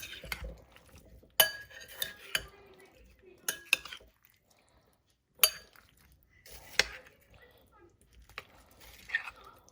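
A spoon mixing chopped red apples and blueberries in a bowl, intermittent clinks and scrapes against the dish in short bursts separated by quiet pauses.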